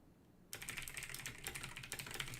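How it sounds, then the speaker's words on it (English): Rapid clicking of computer keyboard typing begins after a brief quiet moment and continues steadily, close and moderately loud. "Sorry, I'm typing notes."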